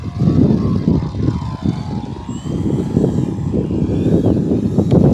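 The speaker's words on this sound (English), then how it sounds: "I would really like to get that prop balanced. I think it'd sound a lot better." A Dancing Wings Stick 14 RC plane with a 1.4 m wingspan flies on a windy day, its unbalanced propeller giving a steady, buzzing drone with a wavering pitch that stays close and fairly loud throughout.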